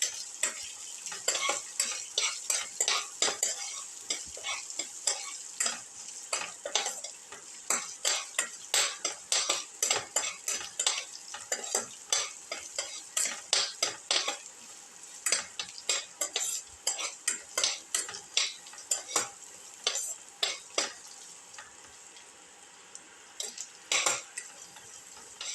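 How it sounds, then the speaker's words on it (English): Ginger and garlic are sautéed in a pan, with a faint sizzle beneath a long run of rapid, rhythmic metallic scrapes and clinks from a spatula stirring against the pan. "Keep on sauteing."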